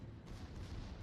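Naval gun salvo from a warship in World of Warships, heard as a sustained deep low rumble of cannon fire lasting the whole moment, loud and dense with no voices over it.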